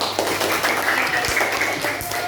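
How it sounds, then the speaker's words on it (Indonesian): Classroom applause for a group of students, a short burst of brisk clapping from several people, close and fairly quiet, with a voice mixed in. "Tepuk tangan untuk kelompok 1"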